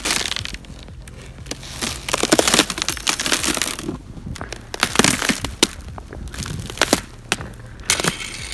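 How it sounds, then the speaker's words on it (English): Boots crunch through crisp, icy snow at Lake Tahoe in January, irregular brittle crackling and crushing steps close by, swelling and fading in uneven bursts, with no talking. "Crisp crunch under those boots hits the spot perfectly. Sounds exactly like walking on thin layers of glass."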